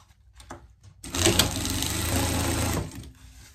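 A sewing machine sews a three-step zigzag stitch on waterproof raincoat fabric. A few soft clicks lead into a close, steady whirring run of rapid needle strokes lasting about two seconds before it stops.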